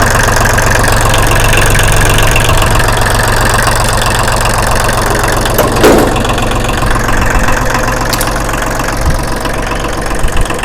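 A used Kubota-style L2201 farm tractor's diesel engine idles steadily, a loud, close, continuous rumbling chug with a rough knocking texture throughout and no voices.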